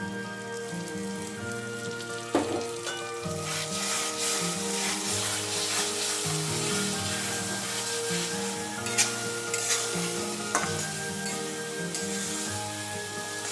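Coconut paste sizzles in an oily spice masala for a chitol fish head curry, a continuous, hissing, rain-like frying crackle with occasional stirring clinks, moderately close and steady throughout.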